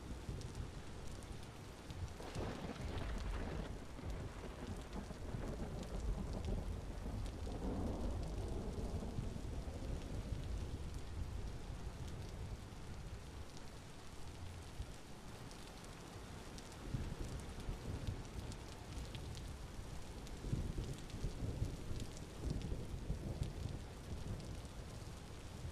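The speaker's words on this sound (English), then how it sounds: "Lightning and thunder." Thunder and rain in the video game Vintage Story: steady rainfall fills the scene while a deep, rolling rumble of thunder swells and fades early on, with fainter rumbles later.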